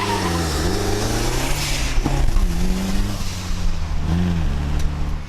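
A turbocharged 500 hp Datsun 1200 ute engine rumbles steadily with rising and falling revs, a deep throaty, not raspy exhaust note held close by for several seconds.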